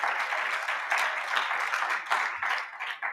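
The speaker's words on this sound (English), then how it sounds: "I want you to have a round of applause for yourself for showing up." Delegates at the C20 South Africa launch applaud themselves, a moderately sized room of clapping with audible surges and dips in rhythm, medium loud and heard alone without talk.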